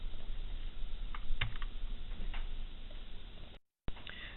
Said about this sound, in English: the delete button on your keyboard